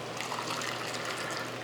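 Plain hot water from the stove pours steadily into canning jars packed with carrots, a continuous close trickling and splashing with no talk over it.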